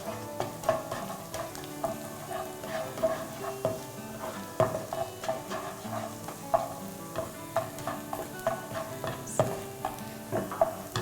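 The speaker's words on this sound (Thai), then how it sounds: "เดี๋ยวเราเจียวกระเทียมนะครับ" Garlic sizzles steadily in a pan while being stirred, a continuous loud frying hiss broken by regular scraping and clinking of the utensil against the pan, no talking.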